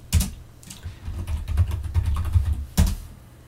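Typing sudo apt update on a computer keyboard at a Linux Ubuntu desktop: a run of soft key clicks between two louder strikes, close and fairly loud, with a low background hum and no talk.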